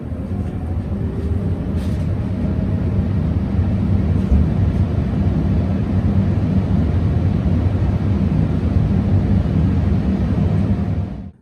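A home central air conditioner, installed in 2014, runs steadily after startup with a continuous low, broadband hum and airflow rush that holds even through the clip before cutting off at the very end.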